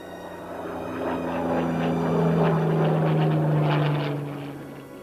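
A Spitfire aeroplane passes overhead, its propeller engine droning steadily as it swells to a peak midway and then fades slightly.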